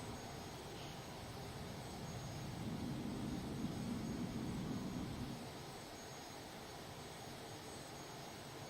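A Cessna T-37B jet trainer's engine roars steadily in flight during hard, high-G turns, a broad continuous rush that swells louder for a few seconds mid-clip and then eases back to a steady drone, with no voices.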